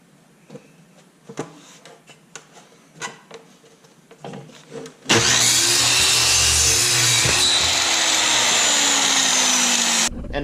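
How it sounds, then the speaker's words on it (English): A power saw cuts slices from a wood board meant as guide boards for a 2x6 on a utility trailer. A few scattered knocks and handling noises come first, then a loud, steady motorized cutting roar runs for about five seconds and stops abruptly. "I could also probably cut a couple slices out of it to use for the guide boards for that 2x6."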